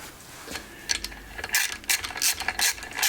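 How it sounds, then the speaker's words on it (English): A hand ratchet clicks in quick bursts while snugging bolts on an aluminum engine part during a 440 engine crankshaft install, with a steady series of sharp, close ratcheting strokes and no talk. "Get that ratchet, snug these guys up."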